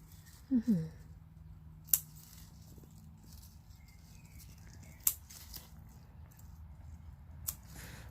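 Scissors snip spinach stems in a garden, three sharp isolated clicks spaced a few seconds apart against a quiet outdoor background.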